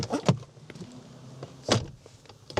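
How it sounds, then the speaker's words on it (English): The soft-close rear door of a Mercedes S-Class shuts with a couple of muted thumps and a faint motorised pull, close by and without talk. "We've got soft closed doors back here as well."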